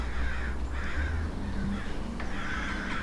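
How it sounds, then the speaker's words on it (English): Crows screech and caw over a dense, noisy outdoor background, with repeated harsh calls at moderate distance. "The nearby screeching of the crows startled her"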